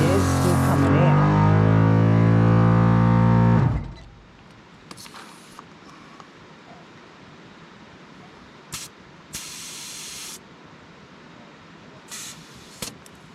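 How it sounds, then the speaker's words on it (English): Air hissing out of a 4x4's tyres beside a King's Twin compressor, a loud steady hiss that cuts off abruptly, followed by quiet outdoor ambience with a few short sharp bursts of air. "Sounds like the air's still coming out."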